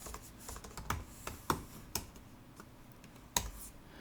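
Scattered keystrokes on a computer keyboard come in an irregular run of close, crisp clicks and taps, a few landing harder than the rest, with no one speaking.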